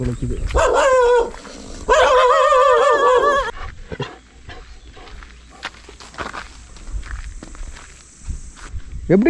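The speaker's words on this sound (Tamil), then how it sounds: "நாய் வேற" A dog in a remote mountain village barks in two loud, close bursts of several yaps each, followed by scuffing footsteps and quieter outdoor noise.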